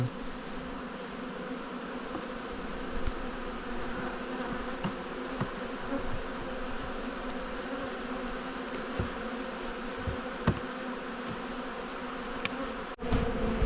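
Honey bees swarm around a hive at an apiary, their dense, steady buzzing filling the air at close range without pause, with a few faint knocks and clicks beneath it.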